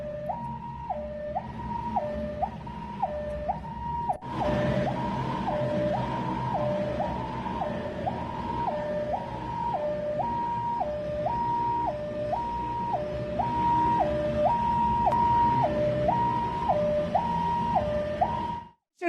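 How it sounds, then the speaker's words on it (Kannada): An ambulance siren wails in a steady two-tone up-and-down cycle on a busy road near Yeshwanthpur railway station in Bengaluru, with traffic rumbling underneath and no voices. "ಆಂಬ್ಯುಲೆನ್ಸ್ಗೂ ಕೂಡ ಹಾರ್ನ್ ಮಾಡಿಕೊಂಡು ಆಂಬ್ಯುಲೆನ್ಸ್ ಹೋಗ್ತಾ ಇದೆ"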